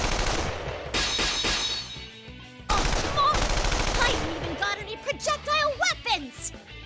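Heavy artillery and machine-gun fire in Persona 4 Arena Ultimax rattles in dense rapid bursts, cutting off briefly and resuming, with game voices and effects layered over the barrage.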